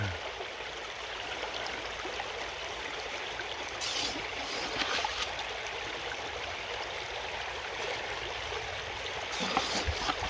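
Steady rushing and trickling water flowing out of a gold-prospecting sluice box, continuous and close, with a few brief splashy bursts.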